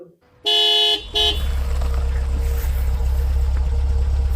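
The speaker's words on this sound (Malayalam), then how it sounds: "ഒരു വണ്ടി വന്നിരിക്കുന്നു." A car horn honks loudly in two short toots as a vehicle pulls up, followed by a steady low engine idle that continues close by.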